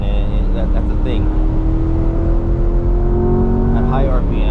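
A 2022 Corvette C8R Edition Z51 holds high revs during a drive, its loud engine droning on a steady pitch that slowly climbs, with voices in the cabin over it.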